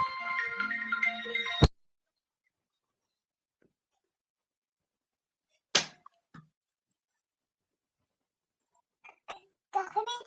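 A phone ringtone plays as a steady tonal melody for under two seconds, then cuts off abruptly; silence follows with a few faint clicks and brief rustles later.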